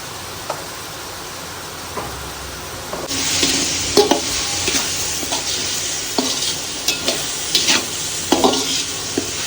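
Chili powder, garam masala and turmeric get stirred through a pan of mag pulav, a bright sizzle that starts after a quiet moment, broken by repeated spoon clacks and scrapes against the metal, close up with no voices.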